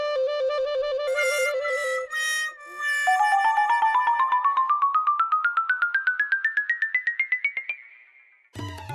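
An electronic melodic doorbell chime is rung over and over, its loud tones climbing in a rapid stepped run before a short burst of a voice at the very end.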